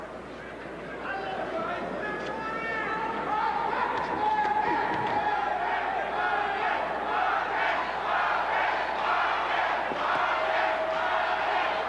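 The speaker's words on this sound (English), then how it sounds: "Marquez fans in the crowd chanting Marquez, Marquez." Boxing arena crowd chanting Marquez in rhythmic unison, a dense roar of many voices filling the hall continuously, with babble and shouting underneath.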